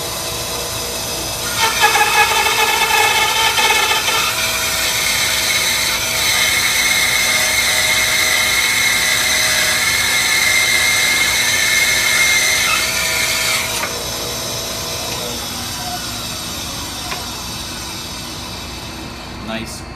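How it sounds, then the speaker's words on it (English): A Rikon 10-305 ten-inch bandsaw resaws a three-inch-thick poplar board, giving a steady, loud whining cut for about twelve seconds before the blade clears and the motor runs on quietly alone. "Here's a piece of poplar. It's about 3 inches. That way you can see it's being resawn, and you can hear what the motor sounds like."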